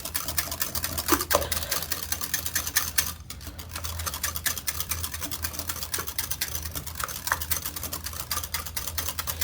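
A wire whisk beats salad dressing by hand in a bowl, making a rapid, steady run of clicking and tapping that continues close up without a break and without any voices.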